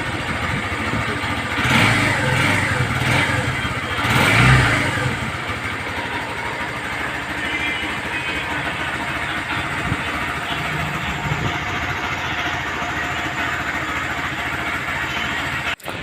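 A Barako 3 fuel-injected 175cc motorcycle engine idles steadily, with a couple of brief revs early on before settling into an even, close-up chugging hum.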